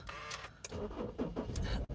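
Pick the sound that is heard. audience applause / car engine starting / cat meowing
car engine starting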